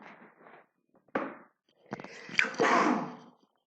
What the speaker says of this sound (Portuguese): Tive que espirrar aqui.